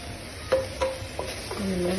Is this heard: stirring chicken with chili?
yes